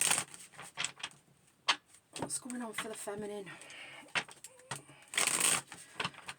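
Tarot cards being shuffled in quick riffling bursts and soft flicks close by, mixed in with someone talking over them.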